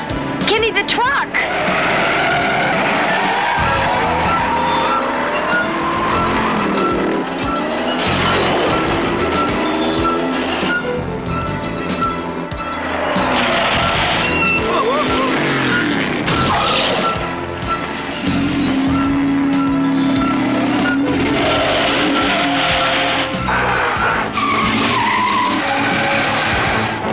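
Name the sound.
car skidding in a handbrake turn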